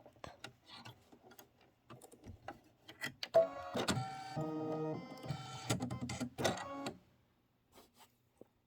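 An embroidery machine stitches an apple basket design, a mechanical chattering hum rising for a few seconds after scattered clicks and handling sounds, close and fairly quiet.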